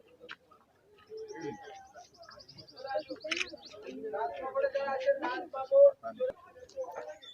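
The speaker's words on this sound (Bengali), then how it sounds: "দেখুন কিছু সাইবেরিয়ান পরিযায়ী পাখি এখানে রয়েছে" Several Siberian migratory birds call and chirp in short bursts at moderate distance, with soft cooing notes mixed in and people talking over them.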